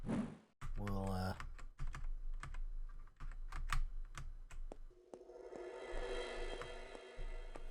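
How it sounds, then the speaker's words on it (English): Clacky typing on a computer keyboard during a Little Big Adventure gameplay session, a run of sharp irregular keystrokes of varying loudness, with a short burst of game sound early on and a soft hum near the end. "I'm having to use the keyboard. You can probably hear me clacking away."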